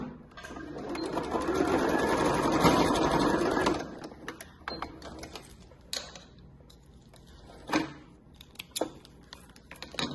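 A sewing machine runs steadily for about four seconds putting a finishing topstitch on a quilting-cotton wallet, then gives way to quieter handling clicks and taps close by.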